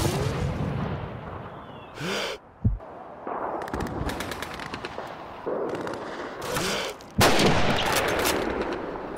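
Gunfire in the Call of Duty 2 Soviet campaign, with a sharp close rifle shot among several loud bursts and distant battle blasts, over ambient war noise and a brief whistling tone.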